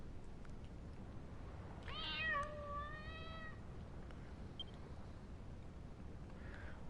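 A single drawn-out cat meow in Dragon Quest Builders 2, clear and mid-distance over a steady low background hum, with no talking.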